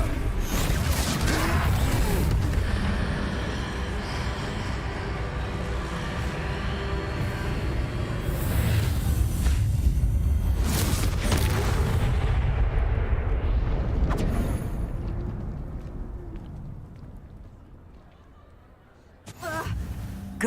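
The Confringo blasting spell in Hogwarts Legacy, heard during a troll fight as heavy booming explosions and rumbling impacts that merge into a loud, dense wash before fading, with game voices mixed in.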